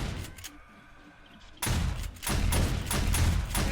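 Rapid automated turret fire from the 7 Days to Die video game, running without power, breaks in loudly after a quiet stretch and keeps up a dense, pulsing burst of shots near and continuous.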